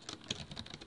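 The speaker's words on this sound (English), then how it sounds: "typing inside of this text area." Brief burst of soft keystrokes on a computer keyboard while text is entered into a text area, quiet and close, a few quick clicks with no talk.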